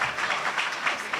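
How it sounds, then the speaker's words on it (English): Audience applause at a university awards presentation: a short, steady wash of many hands clapping, moderately loud and unbroken. "No, let's applaud that."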